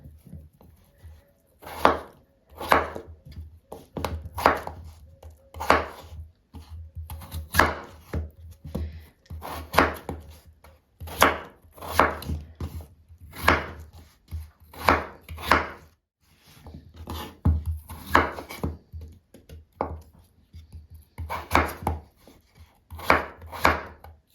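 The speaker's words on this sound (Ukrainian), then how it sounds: "Далі будемо нарізати нашу картоплю такими теж середніми кусочками." A knife chops potatoes into medium pieces on a cutting board, irregular bursts of firm thuds in quick clusters, close and clear with no talking.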